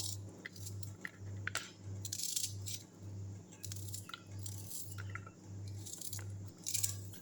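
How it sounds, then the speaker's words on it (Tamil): Tomatoes and onions are chopped roughly into large pieces with a knife, giving faint, irregular squishy cuts and crunches over a soft, steadily pulsing background hum. "இப்போ இந்த தக்காளி வெங்காயத்தை நம்ம வந்து சும்மா ஏதோ ஒன்று அரிஞ்சிக்கலாம்"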